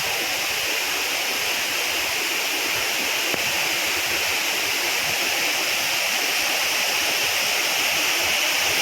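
Areekal waterfall in Pampakuda, Muvattupuzha, pours steadily, a dense unbroken rush of falling water that stays loud and even throughout with no voices.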